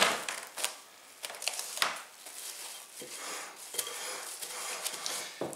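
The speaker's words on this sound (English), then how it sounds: "Put the dough in the bowl, flip to grease the other side, and then cover it with cling film." Bread dough for dinner rolls handled in a greased bowl and covered with cling film, light clinks of the bowl, rustling crinkles of plastic wrap and soft handling noises, close and quiet, no talking.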